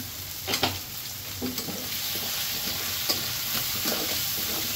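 Turmeric, chili and coriander powders fry with potatoes in a pan, a constant soft sizzle with scattered scraping stirs of a spoon, moderately quiet and without speech.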